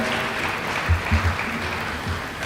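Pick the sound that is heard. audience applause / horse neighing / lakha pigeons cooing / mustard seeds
audience applause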